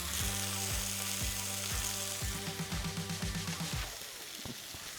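Veal pieces searing in oil alone in a hot pan give a steady, loud sizzle, with a few low knocks from the pan being moved before the frying quiets slightly near the end.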